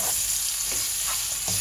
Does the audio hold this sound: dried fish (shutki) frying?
yes